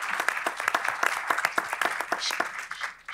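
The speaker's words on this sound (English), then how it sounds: "So let's give them another round of applause" An audience claps through another round of applause for two acts on a stage, a steady spread of many hands that stays moderately loud throughout before easing slightly near the end.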